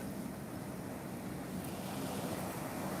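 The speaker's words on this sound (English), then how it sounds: "Look at the waves coming in." Ocean waves rolling in to shore near Sydney, heard as a steady, broad wash of surf with some wind noise, continuous and fairly close, with no talking.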